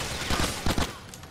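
Gunfire in Grand Theft Auto: The Ballad of Gay Tony, a quick loud burst of several overlapping shots during a night-scene shootout, dense and close for just over a second.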